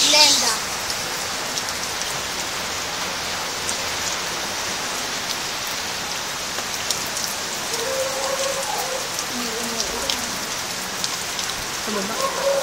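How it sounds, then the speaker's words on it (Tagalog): Heavy, steady rain pours down during Typhoon Glenda in 2014, a dense, even hiss that fills the whole stretch, with faint voices briefly audible in the background toward the end. "nararamdaman po natin ang onting bagyong Glenda"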